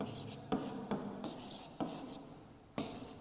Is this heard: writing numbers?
yes